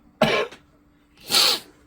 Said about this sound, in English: well, I cough up a lung.